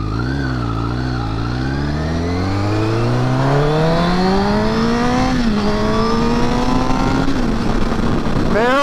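A Honda CBR motorcycle with a stock exhaust revs up, its engine pitch climbing smoothly over several seconds, then holding and dipping slightly before another blip at the end, loud and close.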